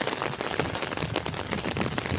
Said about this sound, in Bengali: সকাল থেকে ঝড়ো হাওয়া বৃষ্টি,